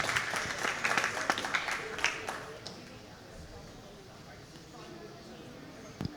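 Audience applause for market lambs at a junior fair sheep show in a livestock barn, a burst of clapping that fades after a couple of seconds into quieter crowd murmur and room noise.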